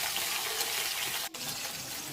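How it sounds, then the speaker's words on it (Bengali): Vegetables for Bengali shukto fry with salt in a covered pan, a steady broadband sizzle running throughout with one brief dip in the middle. "আগে সবজিগুলো ভালো করে একটু ভেজে নিচ্ছি লাল লাল করে, সময় নিয়ে লবণ দিয়ে একটু ঢাকা দিয়ে ভেজে নিচ্ছি"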